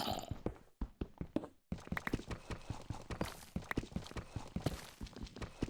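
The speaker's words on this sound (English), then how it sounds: "I hear a horse. You know what that means? Oh, it's a donkey." Donkey footsteps in Minecraft tap in a quick, regular series of soft clops, fairly close and alone, with a short pause before the steps resume and continue evenly.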